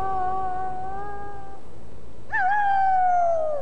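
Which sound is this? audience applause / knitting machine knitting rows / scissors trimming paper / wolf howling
wolf howling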